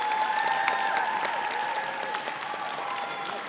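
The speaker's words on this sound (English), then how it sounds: "Big round of applause again." An audience applauds graduates of the class of 2024 at a commencement, a continuous wash of dense clapping with some cheering whistles rising over the crowd.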